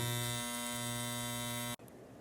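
Modified Andis T-Outliner electric hair clippers humming with a steady, even buzz for nearly two seconds, then abruptly switching off into quiet room noise.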